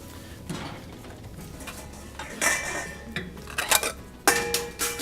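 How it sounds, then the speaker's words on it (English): Ceramic bowls and utensils clink and clatter in a home kitchen during salad preparation, with several sharp knocks and rattles scattered across the stretch, the busiest bursts landing near the end, all close and moderately loud without talk. "I'm going to grab a separate bowl, just because I think it will make this easier."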